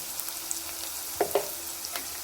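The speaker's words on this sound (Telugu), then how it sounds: "ఇప్పుడైతే మామూలుగా వేగిపోయాయి పోపు అనేది." Onion and spice tempering with turmeric frying in a pan for a brinjal and tomato curry, a steady soft sizzle with a couple of brief stirring clinks, no voices.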